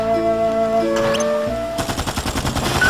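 Rapid machine gun fire in the Dark Chronicle video game rattles out in a quick pulsing burst over game music, loud and close.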